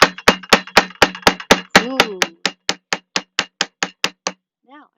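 A hammer beats flower petals to transfer their colour, about eighteen sharp, close, evenly paced taps that fade slightly toward the end, with a brief exclamation partway through and another short voice sound at the close.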